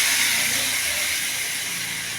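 A spice paste soaked in warm water, made with ground coriander, chili and turmeric, hitting a hot pan for a jackfruit curry, giving a steady close hiss that fades slightly over two seconds, with no voices.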